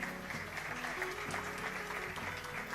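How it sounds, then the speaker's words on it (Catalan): Applause from a crowd at a prize-giving ceremony, a continuous wash of clapping at moderate distance with a faint tone and murmur underneath. "Doncs un aplaudiment pel Sergio Lizana"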